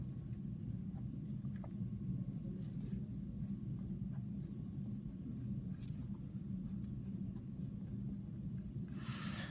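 Marker or chalk writing out algebra terms for a multiplying-binomials lesson, a scratchy, faint stroke sound repeated over steady low room rumble, with a brief brighter burst near the end.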